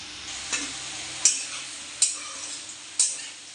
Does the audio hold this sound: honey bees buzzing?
no